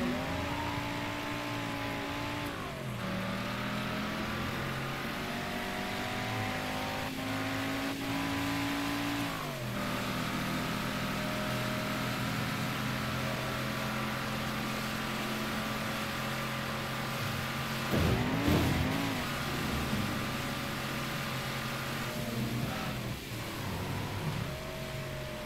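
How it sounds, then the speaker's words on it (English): A car drives in the video game Mafia 3 Definitive Edition, its engine humming steadily with several rising revs and gear shifts and a brief louder surge midway, with no talk over it. "This car handles pretty nice also, though."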